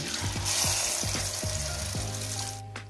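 Battered bananas deep-frying in oil give a loud, dense, continuous bubbling hiss up close, with a low rhythmic knocking beneath and the fizz easing off near the end; no one speaks.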